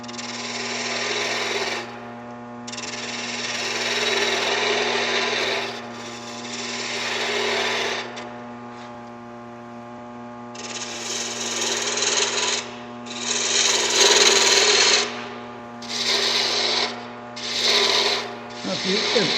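A wooden wig stand spins on a wood lathe while a gouge cuts it. The motor hum runs steadily throughout, and bursts of rough, hissing cutting noise start and stop repeatedly as the tool is pressed to the spinning wood.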